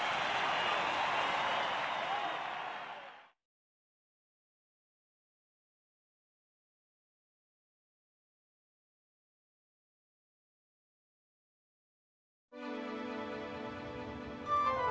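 Crowd applause in the video game Dragon Quest Monsters 3 after a class victory, a dense burst of clapping for about three seconds, then silence, then game music returns near the end.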